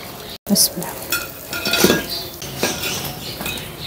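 Fried chicken spring rolls are lifted out of a pan of hot oil, with utensil clinks and metal scrapes over a light sizzle, close and busy.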